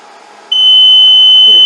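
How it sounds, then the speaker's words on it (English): After a short quiet stretch, a loud, piercing electronic beep from a rework machine replacing a QFN component starts and holds as one continuous tone. "Wait for the machine to beep."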